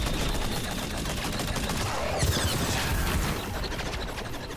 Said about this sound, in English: thank you, mysterious Gatling gun.